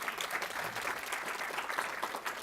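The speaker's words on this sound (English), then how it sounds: "Round of applause." An audience applauds steadily throughout, a dense wash of clapping welcoming an epidemiology PhD speaker being introduced at an event, with no talk over it.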